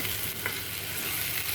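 Tomato masala in oil for dum arbi (taro root) cooking covered on low heat: a steady, close, even sizzle and bubbling hiss that holds without a break, no voices.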